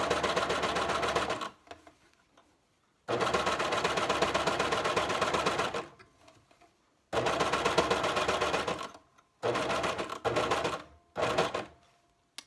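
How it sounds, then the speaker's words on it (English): A sewing machine stitches a pants seam in four bursts of steady, rapid mechanical whirring, each lasting one to three seconds and separated by short quiet pauses, close and clear with no talking. "And then I can just start sewing and it'll get right up to that edge."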